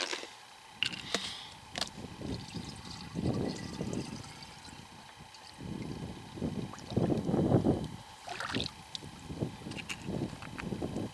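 Cold water gurgling and splashing into a bottle in bursts as it fills outdoors, close up with a breezy background and no talking.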